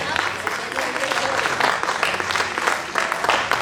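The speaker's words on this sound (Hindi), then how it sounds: "एक बार तालियों से परिचय दे दें कि आप सुनना चाहते हैं" Audience at an open mic poetry gathering breaking into applause, a loud, dense burst of clapping that continues steadily with a few voices underneath.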